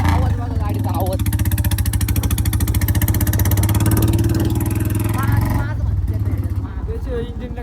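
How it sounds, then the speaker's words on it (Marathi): A Royal Enfield Bullet motorcycle fitted with an aftermarket external silencer thumps in a close, loud, rapid steady beat that drops off near the end, with someone talking over it. "टायर आवाज बघा गाडीचा आवाज"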